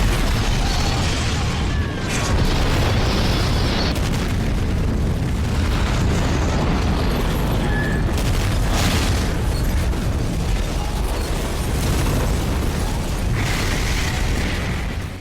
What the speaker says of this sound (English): And then, of course, the CDC explodes.